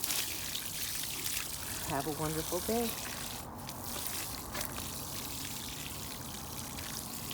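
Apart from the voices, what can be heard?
watering tomato plants in garden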